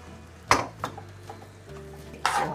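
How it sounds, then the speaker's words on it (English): Rice coated in sofrito and achiote oil is stirred together with pigeon peas in a pot, making a few sharp spoon-on-pot knocks and soft scraping stirs spread over a low steady hum. "Then we add the gandules. Mix it all together."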